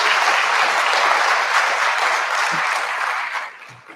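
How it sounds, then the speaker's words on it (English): Warm applause from an audience at a high school honors and scholarship night, sustained and fairly close, then tapering off near the end. "let's give her a nice round of applause to Sandy"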